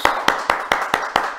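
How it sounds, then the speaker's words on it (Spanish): Seven sharp, close hand claps land at a brisk, perfectly regular pace on a radio show in the studio, each a crisp separate smack with short quiet gaps between. "¿por qué el aplauso?"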